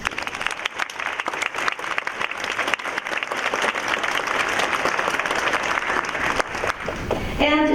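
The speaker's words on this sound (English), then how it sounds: "Please give Dr. Ryo Kita a warm round of applause." Warm, sustained audience applause welcoming a judge at a cherry blossom queen program, a dense round of clapping that swells and holds before a voice begins at the end.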